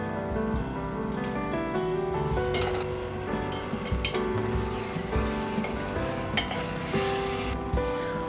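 Sponge gourd simmering under a closed lid on a low flame, giving a steady soft sizzle and bubbling with faint clinks throughout, no voices.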